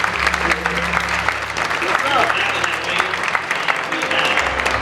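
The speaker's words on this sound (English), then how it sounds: "one more round of applause." Audience applause at a university chapel service, a loud, sustained round of clapping from a crowd, with low music or hum underneath and some voices briefly audible.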